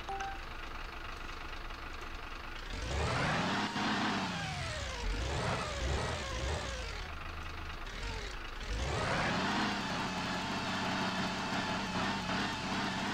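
A modified Mercedes Actros truck in a mobile Turkish driving game idles, then revs hard twice, its engine note climbing and falling in long, loud sweeps before dropping back to a steady rumble.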